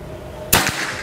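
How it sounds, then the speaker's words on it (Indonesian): A single sharp shot from a PCP air rifle cracks once, close and loud, followed by a short echoing tail over quiet background. "Sekarang kita pindah ke siluet yang bagian tengah ya, tembakan yang ketiga."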